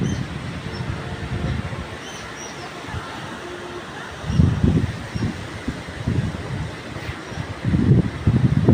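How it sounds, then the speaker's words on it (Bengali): Stormy wind gusts outdoors under a dark, cloud-covered sky before rain in Kaliganj, Jhenaidah, a rushing, rumbling roar that swells in bursts near the microphone, with a person speaking over it. "মেঘ ঝড়ো বাতাস হচ্ছে, মেঘ ধেয়ে এসে এখনই হয়তো বা বৃষ্টি শুরু হবে।"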